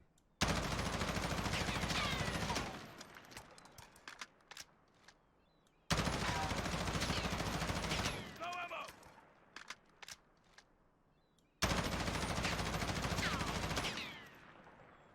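M4 rifle firing full-auto in the video game Warzone: three long, loud sustained bursts of rapid shots, each lasting a couple of seconds and separated by quieter gaps with scattered single cracks and clicks.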